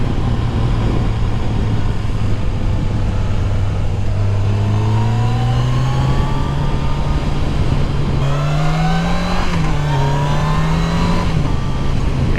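A 2019 Yamaha FJR 1300 ES sport-touring motorcycle accelerates steadily, its engine note climbing in pitch through the gears with a brief dip at a shift, loud and close over constant wind noise.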